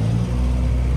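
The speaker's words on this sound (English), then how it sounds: "another K supercharged Integra" A supercharged K-series Honda Integra engine at a car meet produces a steady, loud, low mechanical drone that stays constant without any clear revving.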